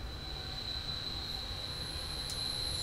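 Train running in the Train Simulator 2018 video game on the Chengdu to Suining route, a steady rolling rumble with a sustained high wheel squeal throughout, no talk.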